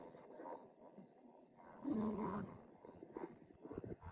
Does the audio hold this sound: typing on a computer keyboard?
no